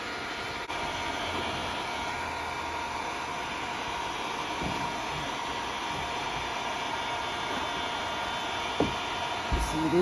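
A heat gun blows steadily on a dented panel of a Toyota Corolla, giving a constant airy hiss at moderate volume with a couple of soft knocks near the end.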